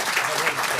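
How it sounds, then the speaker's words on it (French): An audience applauds at a lecture, with dense, steady clapping close by that continues without a break. "On vous applaudit tous les deux"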